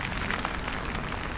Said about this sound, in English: And it is raining again.